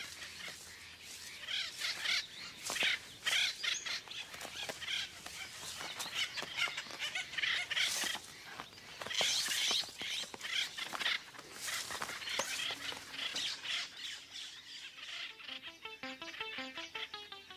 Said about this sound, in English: The woodpeckers attack.